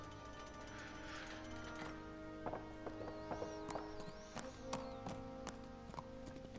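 Horse hooves clip-clop in an irregular gallop while riding in the medieval video game Kingdom Come: Deliverance, steady thuds over a low ambient music bed, fairly faint.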